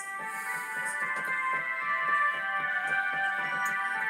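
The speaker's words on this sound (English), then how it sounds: "And that was Jesu's Joy of Man's Desiring with the oboe." A church organ on its oboe stop plays Jesu, Joy of Man's Desiring, a steady reedy melody over sustained tones with a gentle flowing rhythm, fairly soft and alone, with no talking.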